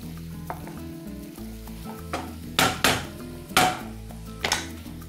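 Beet green stems fry and sizzle in a pan under a constant crackle, broken by several sharp scraping clatters as a utensil stirs against the pan, with no talking.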